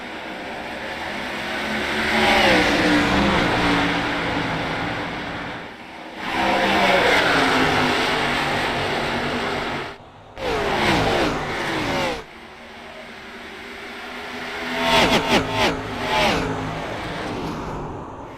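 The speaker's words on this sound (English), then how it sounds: "green flag, we're racing here at Charlotte" Xfinity Series stock cars racing at Charlotte in iRacing roar past at the green flag, loud engine waves swelling and fading as the pack passes in several bursts, with a brief dropout between passes.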